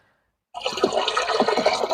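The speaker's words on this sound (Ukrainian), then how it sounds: "Наливаємо в лієчку, щоб не розливати" Fundazol fungicide solution is poured into a watering can. After half a second of silence, a close, steady splashing gush of liquid starts and continues to the end.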